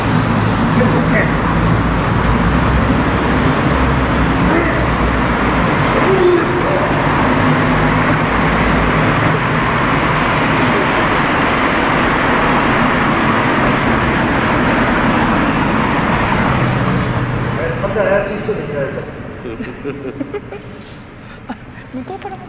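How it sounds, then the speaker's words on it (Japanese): Road traffic on a busy back road in Kanagawa, Japan, near a tunnel: a loud, continuous roar of vehicles passing close by that fades toward the end, with people talking over it. "交通量多いよ、ここは。裏道でね。"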